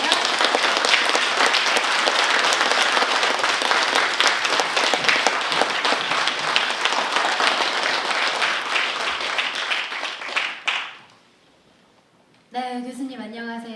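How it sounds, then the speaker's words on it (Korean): Concert audience at a morning traditional Korean music performance in a small hall gives loud, sustained applause welcoming a speaker onstage, then falls silent abruptly before a voice begins speaking. "큰 박수로 맞아주세요."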